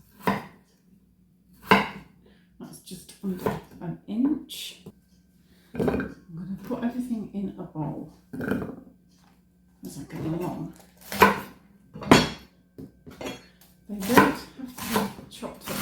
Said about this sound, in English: I'm chopping up this potato into approximately 2 centimetre cubes.